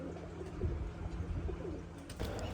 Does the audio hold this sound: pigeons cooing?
yes